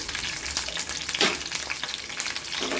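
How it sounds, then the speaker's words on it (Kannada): Green chillies, ginger and garlic fry in hot oil with a bright, continuous sizzle close to the microphone. A few louder crackling bursts and stirring scrapes break through, and no one speaks. "ಇದಕ್ಕೆ ಇವಾಗ ಹಸಿಮೆಣಸಿನ್ಕಾಯಿ ಶುಂಠಿ ಬೆಳ್ಳುಳ್ಳಿ ಹಾಕ್ಕೊಳ್ತೀನಿ ಹಾಕ್ಕೊಂಡು ಸ್ವಲ್ಪ ಚೆನ್ನಾಗಿ ಫ್ರೈ ಮಾಡ್ಕೋಬೇಕು"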